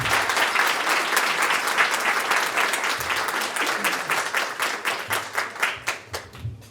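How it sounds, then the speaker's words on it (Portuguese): Audience applause for a federal deputy at a talk event, loud and dense at first, then thinning into fewer, separate claps that fade toward the end. "Salva de palmas para ele."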